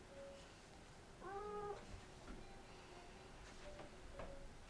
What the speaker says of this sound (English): That's a cat because there's always a cat.